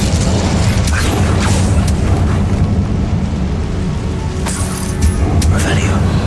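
A fire spell cast in the Hogwarts Legacy game gives a loud, continuous rumbling roar with bursts of crackle, running through the whole stretch, and a voice can be heard over it.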